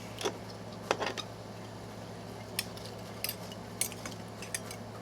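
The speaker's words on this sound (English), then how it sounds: "I'm going to take this and kind of stir it down in there" A utensil stirs fire cider ingredients down into a container, producing quiet, sparse clinks and taps against the sides over a soft steady background hum.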